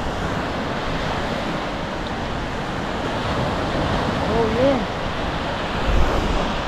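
Sea waves washing onto a quiet beach at Paysawan, Bagac, Bataan, a steady rushing surf mixed with wind buffeting the microphone, swelling slightly near the end, with a brief spoken exclamation in the middle.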